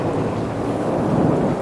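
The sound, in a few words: thunderstorm with heavy rain and lightning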